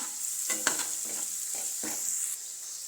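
Spice paste of onion, tomato and garlic frying in a pan with crushed cumin and coriander stirred in, a low sizzle broken by several short spoon-scraping strokes at a close, moderate level.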